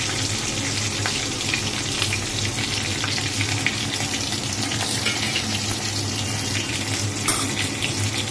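Fried onions tipped into hot oil with bay leaf and cardamom for an egg curry, giving a continuous, even sizzle at close range that holds steady throughout without any voices.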